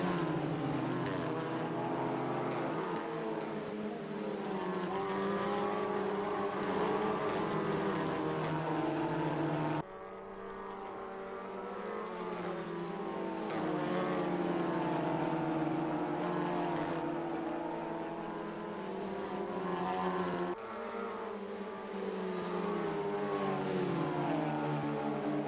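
Race cars drafting nose to tail around a Canadian Tire Motorsport track during a Super Cup event, their engines a loud, sustained droning whine that shifts pitch through gear changes.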